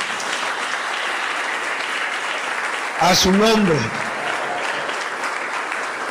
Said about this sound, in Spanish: ¿Cuántos le pueden dar un aplauso al Señor?